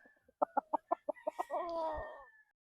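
Gamefowl stags cluck in a quick run of about eight sharp, evenly spaced calls, then one stretches into a short crow, close by and fairly quiet.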